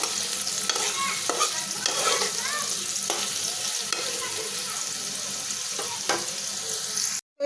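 Sliced onions fry in a pan until reddish, making a steady, close sizzle with occasional stirring clicks and scrapes; the sound cuts off abruptly at the end.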